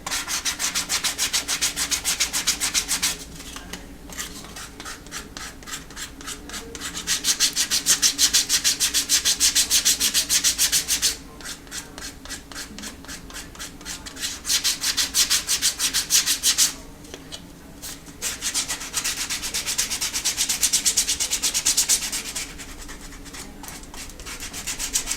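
Rougher-grit sandpaper rubs along the edge of a handmade leather vertical wallet in steady, close, loud back-and-forth strokes, coming in several bursts separated by brief pauses.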